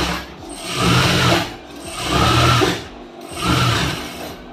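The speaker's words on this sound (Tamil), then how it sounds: "இந்த லைனிங்கை மட்டும் அப்படியே திருப்பி விட்டுட்டு இந்த எட்ஜில் ஒரு தையல் வந்து போடுங்க" A sewing machine runs three separate bursts, stitching along the edge of a blouse lining, each run rising and easing off with short pauses between them.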